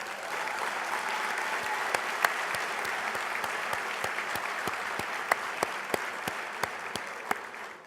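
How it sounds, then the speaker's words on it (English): An award banquet audience applauds Auburn student veterans, a fairly quiet, sustained wash of clapping from a large room with scattered sharper individual claps standing out. "So let's give them a round of applause."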